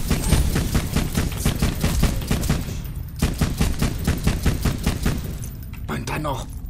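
Rapid automatic gunfire in Borderlands 2, a dense steady stream of loud close shots with brief pauses, ending as a voice speaks over the game sounds.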